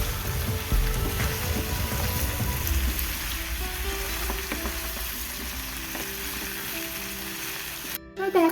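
Jackfruit, potato and onion fry together in a pan for a Bengali jackfruit curry, a loud continuous close sizzle with stirring scrapes early on and a brief clatter near the end.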